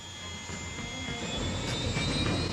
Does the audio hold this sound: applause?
no